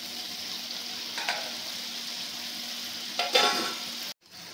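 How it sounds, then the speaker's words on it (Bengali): Fish pieces go into a pan of cooking fish curry over a continuous loud sizzle, with two brief splashy surges as they hit the hot liquid before the sound cuts off abruptly. "তারপরে এই মাছগুলো ঢেলে দেওয়া হলো"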